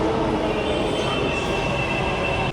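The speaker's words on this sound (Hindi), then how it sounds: "तो अब मेट्रो में छी" Metro train riding through Kolkata, a loud continuous rumble of wheels and carriage with a steady high whine, heard from inside the car with no talking.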